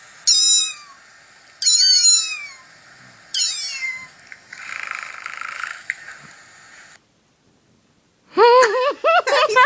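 A person imitates a small kitten's meows in several short, rising-and-falling calls, followed by a burst of quicker, higher meow-like cries after a brief pause.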